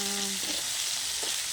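Pork browning in a pan for adobo with plenty of onions, a steady broadband sizzle throughout with brief stirring scrapes and a low tonal hum in the first half, no talk.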